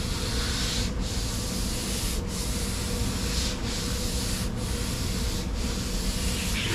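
A car's rear bumper is sanded down before base coat black, giving a loud continuous abrasive rubbing hiss with brief pauses roughly every second, close and steady with no talking.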